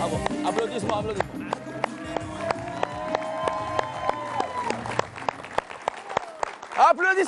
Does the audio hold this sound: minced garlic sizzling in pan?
no